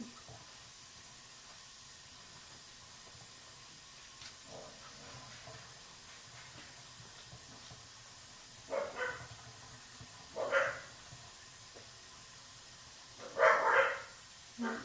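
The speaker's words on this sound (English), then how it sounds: "you hear them barking?" Several dogs, poodles, bark in short bursts at someone arriving at the door, a few sharp clusters spaced several seconds apart, moderately close, over a quiet hissing background with no talk.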